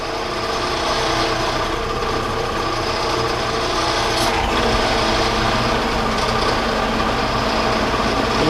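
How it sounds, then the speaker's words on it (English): A drill bit bores into a metal part on a Powermatic Model 90 lathe, a loud, steady mechanical grinding and whirring that runs unbroken, with a short scraping flare midway. "We need to drill this baby out."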